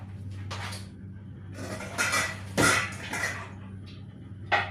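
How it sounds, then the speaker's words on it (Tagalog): Several people wash dishes in a workplace kitchen, with pots and cutlery clattering and clinking in short sharp knocks over a steady low background hum. "tignan nyo naman yung grabe sila maghugas"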